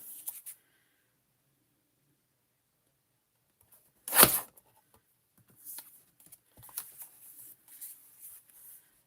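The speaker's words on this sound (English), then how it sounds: "Trim this up." A small paper trimmer slices through cardstock for a handmade evergreen step card, giving one brief, close swipe followed by faint light rustles and scattered small paper taps.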